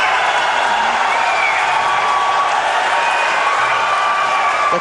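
Arena crowd at an MMA bout between Mohammed and Ian Feenan roars steadily as a fight heads to the judges, a dense, sustained wash of cheering with faint whistles and no clear break.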